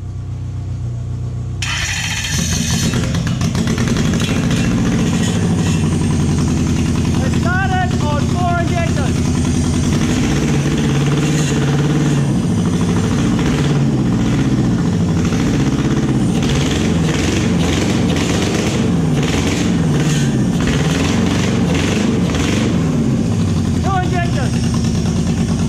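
A Toyota 1UZ-FE V8 running on only two cylinders, with a steady, rough, uneven engine note continuing throughout at close range while people talk over it.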